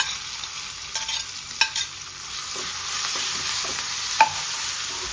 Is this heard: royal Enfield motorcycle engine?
no